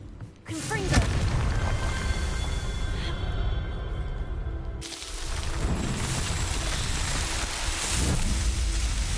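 Confringo blasting-spell explosion in Hogwarts Legacy: a sudden heavy boom followed by a sustained roaring rumble, a second burst about halfway through, loud and dense under the game's background sound.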